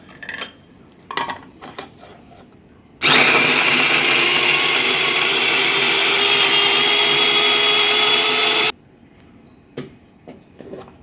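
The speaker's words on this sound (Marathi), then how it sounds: "ह्या मिनी चॉपरमध्ये हे आलं लसूण क्रश बनते" Electric mini chopper crushing ginger and garlic, a loud whirring motor burst of about six seconds, close up, framed by quieter kitchen clatter and handling sounds before and after.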